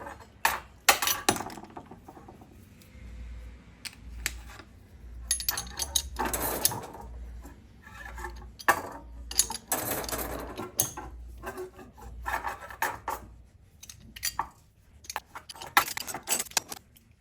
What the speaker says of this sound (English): now we're going to grab our box wrench. We're just going to start to tighten this down.